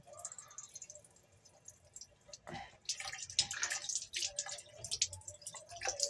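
Running water splashes and trickles irregularly during a quick rinse in a shower, faint at first and growing busier, with soft drips and spatters.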